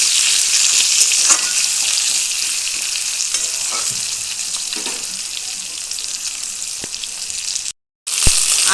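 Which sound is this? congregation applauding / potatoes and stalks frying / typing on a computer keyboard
potatoes and stalks frying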